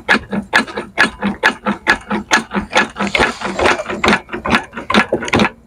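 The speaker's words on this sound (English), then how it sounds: "I'll jack it up a little bit more." A car jack raises a Ford Focus during engine mount replacement, clicking and ratcheting in a steady, evenly spaced rhythm of sharp mechanical strokes, close and loud, with a brief rougher grinding stretch midway.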